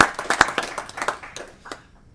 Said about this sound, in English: join me with a round of applause to welcome these gentlemen